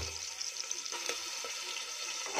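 Ginger garlic paste roasts in a pan as a soft, steady sizzle with faint crackles, close by and low in level, with no talk.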